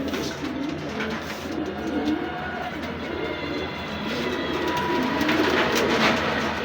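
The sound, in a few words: pigeon cooing call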